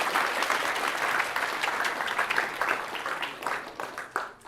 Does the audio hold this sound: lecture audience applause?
yes